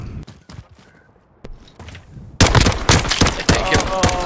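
Video game gunfire: sparse scattered clicks and distant thuds, then a loud burst of rapid shots that continues to the end with a few heavier reports.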